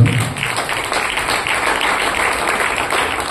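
Applause from the congregation at a church anniversary meeting after a worship song, a dense steady clatter of hands filling the whole short stretch at close range.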